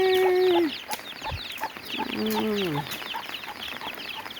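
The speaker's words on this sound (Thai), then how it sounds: "ลูกไก่ไปเล่นกับมงคลแล้วน่ะ" Chicks cluck and cheep close by, soft repeated calls with a few sliding tones, over a steady background hiss.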